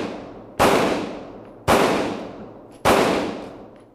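Three loud, sharp gunshots ring out about a second apart, each with a long echoing decay that fades before the next shot.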